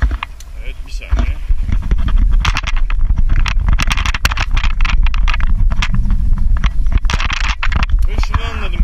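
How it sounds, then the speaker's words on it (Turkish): Strong gusting wind buffets the microphone with heavy low rumble on a cycling route in the Netherlands, while a person talks over it. "Şu an sesim biraz zor duyuyor olabilirsiniz çünkü bayağı rüzgar var."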